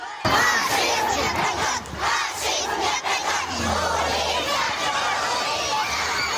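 A large crowd in Odesa shouts loudly and continuously, chanting "Murderer!" and "Fascism will not pass!", voices overlapping in rough rhythmic bursts that sound angry and chant-like.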